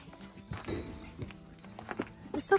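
A horse moves nearby with a few irregular hoof clops on hard ground, quiet and close, with faint rustling around it.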